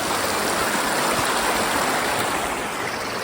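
Swollen rivers and streams rush after heavy rain near Singoli village in Jawad tehsil, a steady, dense roar of flowing water, loud and unbroken throughout with no voices.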